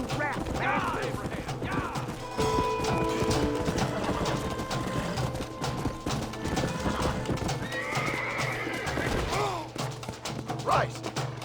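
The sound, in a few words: horses neighing and hooves clip-clopping in video game Red Dead Redemption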